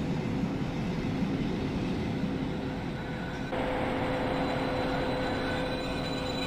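A train braking on the Maurienne railway line, with a steady loud rumble of wheels and running gear and a thin high-pitched brake squeal joining partway through, heard close from on board.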